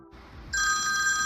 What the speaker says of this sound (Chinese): 又有电话扣音进来了